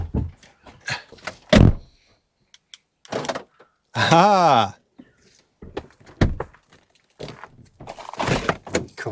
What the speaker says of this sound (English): God, blimey, these doors are stiff